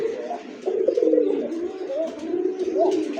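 A Gobindo Kaka breed pigeon coos in a series of low, rolling, throaty calls, moderately loud and close, with no talk over them.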